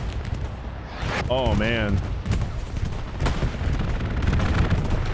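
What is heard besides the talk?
bombing run, artillery and gunfire in the video game Hell Let Loose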